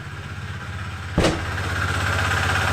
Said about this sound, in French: On va parler de ma moto.